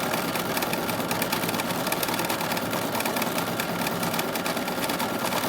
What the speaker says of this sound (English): So now I'm going to ask the machine to go ahead and do the stitch for the batting